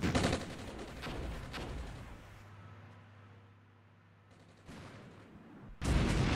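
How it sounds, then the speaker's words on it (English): Tank explosion in the Cold War video game Armored Brigade, loud blasts and crackling gunfire bursts that fade to a quiet rumble before sharp heavy bangs return. "Turret blew off there. Hell of an explosion."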